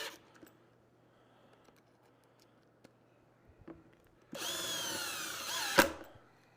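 A power drill drives screws into a template during a lid kit install: a short, close whirring burst that ends in a sharp spike, after several seconds of quiet handling.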